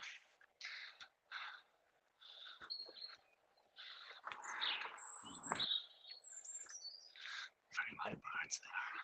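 Light bird chirps and tweets sound outdoors on a hillside at sunset, scattered and fairly faint, with quiet talk and footsteps mixed in.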